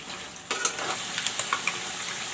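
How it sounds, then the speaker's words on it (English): Masala, ginger, garlic and jeera paste drops into a hot pan for chicken curry, starting a bright sizzle punctuated by several quick clinks and taps as it is moved about. "now I will put in the masalas, the ginger, garlic and jeera paste"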